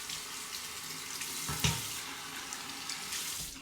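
Tap water runs steadily into a sink for rinsing after a shave, a continuous close hiss with a brief splash partway through.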